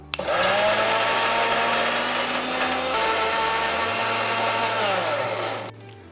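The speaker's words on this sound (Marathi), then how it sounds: "भाजलेला मसाला सगळा मिक्सरच्या भांड्यात काढून घेतला आहे. तो आता आपण वाटून घेणार आहे." A kitchen mixer grinder blends roasted spice masala for a katachi amti curry, its loud, steady motor whir running for several seconds before cutting off near the end.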